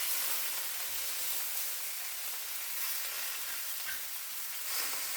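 Sliced baloney frying in a pan, a soft, even sizzling hiss that holds steady throughout with faint crackles, fairly quiet and with no voices.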